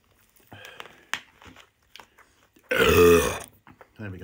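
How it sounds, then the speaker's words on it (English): A loud, drawn-out burp after drinking Dr Pepper erupts once in the middle, with a man's murmured speech and faint wrapper rustling before and after. "Let's try and get a better burp than that"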